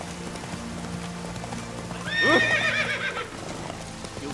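In The Witcher 3, the horse Roach moves with soft hoof beats under game ambience. A loud, close neigh rises and falls partway through before the steady background returns.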